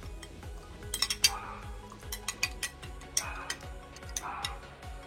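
A utensil stirs melted gelatin in a small dish for homemade ant jelly, giving a run of light ticking clinks and taps against the container, close and fairly quiet with a few brighter scrapes.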